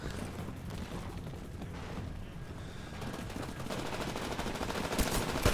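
Rapid gunfire crackles during a Titanfall match on Xbox One, dense automatic bursts and mechanical clatter over a constant roar of game noise, growing louder toward the end.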